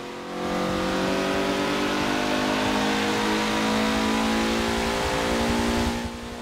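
Race car engine in the Forza video game, revving loudly and steadily with a sustained high-pitched drone as the car accelerates, rising at the start and dropping away near the end, with no talk.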